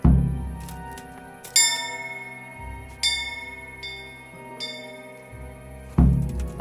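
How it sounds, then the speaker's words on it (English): A large town bell near the town hall in Kingdom Come: Deliverance rings four times, each deep clang ringing out and fading into a long shimmering decay before the next strike. "Is that a bell? That's a bell."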